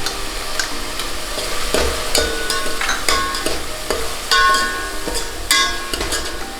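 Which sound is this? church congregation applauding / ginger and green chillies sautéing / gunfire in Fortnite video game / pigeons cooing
ginger and green chillies sautéing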